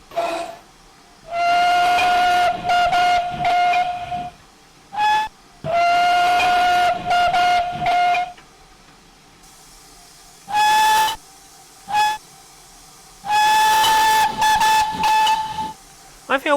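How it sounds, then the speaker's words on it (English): A GWR pannier tank steam locomotive whistle in Train Simulator Classic sounds as several loud, shrill blasts, some long and sustained and others short toots, separated by quiet gaps. "Oh, that's a new whistle."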